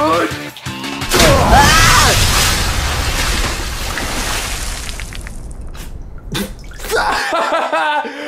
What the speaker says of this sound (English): My ultimate splash.